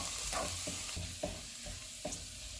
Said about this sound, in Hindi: ऑयल गर्म हो गया, इसमें लहसुन डालेंगे।